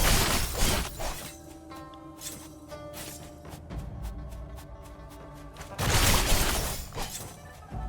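Objects shattering and breaking in the action game Warm Snow, repeated crashing smashes in loud bursts at the start and again near the end, with quieter tinkling debris between, no voices.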